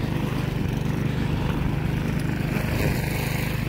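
A lawn mower engine runs steadily while cutting grass, a loud, close, continuous droning hum with an even pitch and no break, no voices over it.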